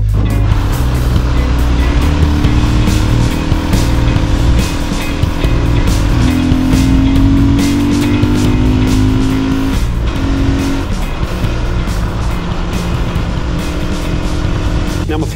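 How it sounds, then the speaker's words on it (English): A Fantic Caballero 500 Scrambler motorcycle accelerating on a highway from about 80 to 100, a loud rising engine drone with wind rush close to the rider, the pitch climbing through gear changes. "I went from 80 to 100 and just rolled on the throttle and away she went."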